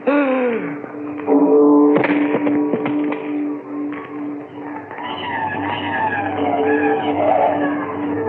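A car skidding outside in a radio drama, tires squealing with sharp taps and rising tonal screeches mixed into loud, busy scene noise for several seconds.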